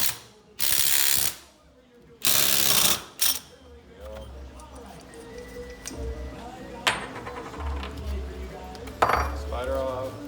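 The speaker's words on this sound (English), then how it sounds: "So I'm going to spin it clockwise to take this off." A lock ring tool loosens a reverse-thread clutch lock ring on an M600 motorcycle, giving loud metallic ratcheting bursts at first, then quieter scraping and clicking as the ring turns, close up and mostly alone.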